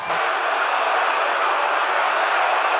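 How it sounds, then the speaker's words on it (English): A large baseball stadium crowd roars and cheers continuously after a home run, a loud, sustained wall of noise with no pauses. "Listen to this crowd."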